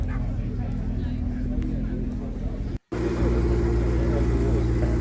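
A Ford RS pulls away from the Goodwood Breakfast Club car meet, its engine a steady low rumble amid crowd chatter, with a brief dropout midway before the motor noise resumes close and loud.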